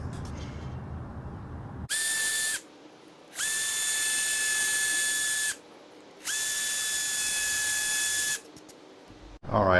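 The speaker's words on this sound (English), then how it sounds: "let's speed through this second part of me cutting the wood and drilling the holes." Power drill boring holes in wood for a raised garden bed, three bursts of high whining motor noise, each several seconds long with brief pauses between, close and loud over a quiet background.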